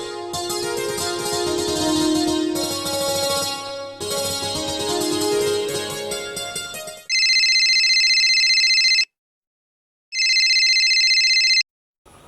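A mobile phone ringtone plays loudly for about seven seconds, then a piercing electronic ring sounds in two bursts separated by a short silence, with no talking.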